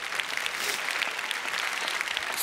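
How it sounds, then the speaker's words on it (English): Audience at the Amsterdam Business Forum 2024 claps briefly, a dense, fairly faint burst of applause that runs steadily without speech. "Yeah, you may clap for that."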